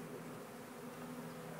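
Honey bees buzzing at the entrance of a beehive during beekeeping, a dense, steady drone of many insects with a low hum running through it, continuous and fairly faint.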